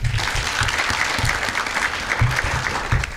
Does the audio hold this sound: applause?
yes